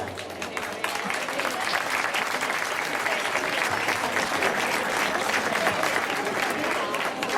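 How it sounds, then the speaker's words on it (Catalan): Sustained applause from a crowd at a giants festival in Olot, steady and fairly loud, filling the whole stretch with dense clapping. "Un fort aplaudiment, sisplau."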